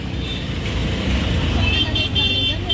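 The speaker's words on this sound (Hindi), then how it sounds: "अब यहाँ मुंबई का ट्रैफिक हम एक्सपीरियंस कर रहे हैं" Busy Mumbai road traffic rumbles close by, with engines droning underneath and several short car horn toots sounding near the end over the continuous roadway noise.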